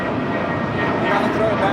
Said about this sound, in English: Next departure on 25 right, followed by United Airlines flight 1170, heading to Honolulu to 777-200ER.